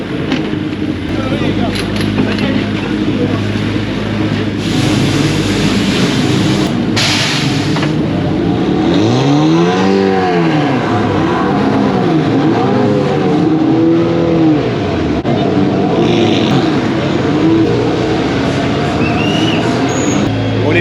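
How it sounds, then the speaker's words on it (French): GT4 race cars roar around a circuit during a live race, engines loud and close with rising and falling revs and passes, while a commentator talks over the continuous racing noise. "Là vous êtes en pleine course, en plein direct"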